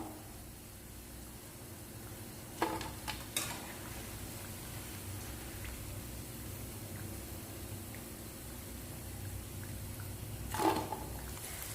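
Drumstick leaf ragi pakoda frying in hot oil, a soft steady sizzle heard close up with a couple of brief clinks of a utensil against the pan.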